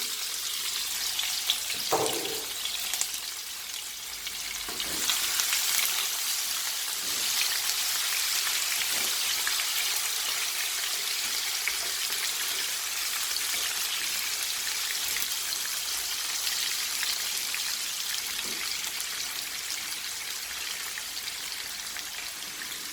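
Chopped onions fry in oil for a salted fish (makayabu) sauce, giving a steady, dense sizzle throughout with a few soft clicks from stirring and no talking.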